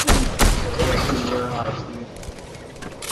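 Gunfire in the Fortnite video game, a few sharp shots near the start that fade into a busy, noisy game mix, with people talking over it.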